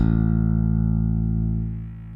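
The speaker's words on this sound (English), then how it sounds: "Let's get rid of all this so we can hear the distortion." Bass guitar played through a Joyo Monomyth bass preamp with heavy distortion, a single sustained gritty note ringing loud and alone, then slowly decaying.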